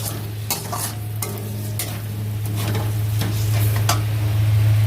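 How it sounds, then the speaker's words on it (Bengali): Spice paste with Everest meat masala stir-fried in a pan at home, a steady close sizzle with repeated scraping and stirring strokes of a spatula, growing slightly louder over time, with no talk. "ভালো করে মশলাটা এবার কষাবো"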